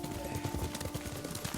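Rapid clip-clop of horse hooves at a steady trot in the video game Ghost of Tsushima, quiet and even, with a faint hum underneath.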